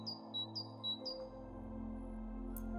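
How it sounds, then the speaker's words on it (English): Birds sing during a morning walk through a suburban neighborhood, with three quick high chirps in succession followed by quieter background song over a low steady hum. "I counted over 20 species of birds in this little suburban stroll"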